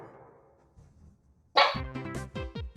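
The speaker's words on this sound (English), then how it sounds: "Can you hear this dog?" A dog demanding food lets out a burst of sharp, loud barks and yips close by after a quiet stretch, the barks coming in quick succession.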